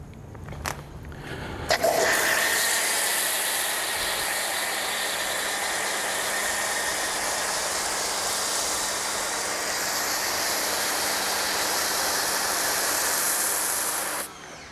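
An MJJC Foam Cannon Pro with a 1.1 millimeter orifice sprays car wash soap in a loud, steady broadband hiss lasting about twelve seconds, preceded by a couple of brief clicks and ending abruptly.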